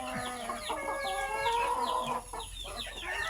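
Native country hens and a rooster in a coop, among them a broody black hen, clucking and calling in overlapping short bursts at moderate distance, a busy and fairly quiet chatter of several birds.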